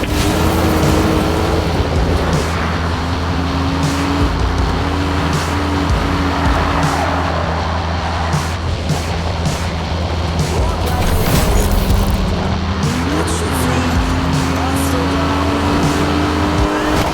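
Police pursuit of a Lamborghini Gallardo LP 570 in Need for Speed Rivals: loud, continuous engine roar with shifting revs, sirens and tire noise, with faint radio chatter beneath.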